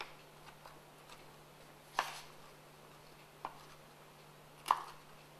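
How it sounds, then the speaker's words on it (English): A knife chops cooked bacon into small pieces on a board, giving three distinct sharp thuds spaced a second or more apart over a quiet background hum, close by. "And just chop it."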